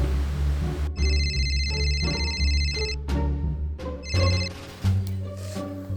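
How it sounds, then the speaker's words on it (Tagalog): Telephone bell ringing in repeated bursts, loud and close, alone with no talking. "Sagutin mo na Dong."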